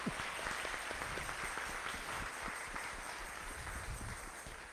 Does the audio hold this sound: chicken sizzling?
no